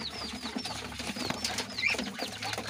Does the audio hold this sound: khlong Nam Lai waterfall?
no